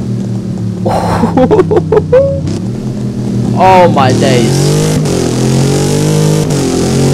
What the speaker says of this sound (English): just listen to that grumble, ladies and gentlemen. The downshift.